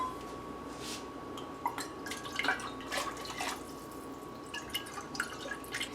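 White wine being poured into a pot of gluten-free seafood stew with vegetable stock, giving soft, steady liquid dripping and splashing sounds at close range with no talking.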